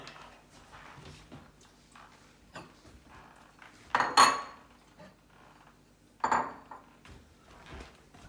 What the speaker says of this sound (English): we'll ladle some into a bowl